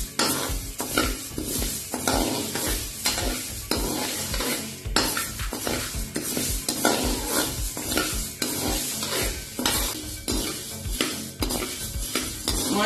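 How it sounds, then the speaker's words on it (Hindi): Moong dal roasts in a pan while a spoon stirs and scrapes it continuously, giving close, rhythmic scraping over a soft dry sizzle, with no voices. "इस तरह दाल को भून लेना और कलर चेंज होने तक इसको भूनना।"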